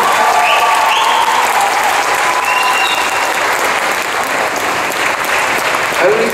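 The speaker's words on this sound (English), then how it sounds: "we had a Q&A yesterday in which there were about 13 rounds of applause for Kevin." A large audience at a Belgian Comic Con Q&A session with Kevin McNally bursts into loud, sustained applause and cheering that fills the hall steadily for about six seconds.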